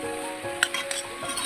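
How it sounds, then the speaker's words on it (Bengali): A soy sauce and tomato ketchup mixture fries for chowmein with a soft steady sizzle, while a utensil stirs and clinks against the pan a few times. "ভেজে নিচ্ছি।"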